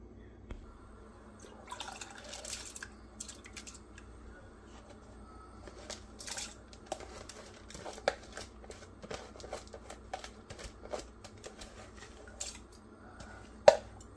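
Basale (Malabar spinach) leaves are washed by hand in water for a Mangalore-style sambar, with soft irregular splashes, drips and wet squishes, quiet and close, and faint talk now and then.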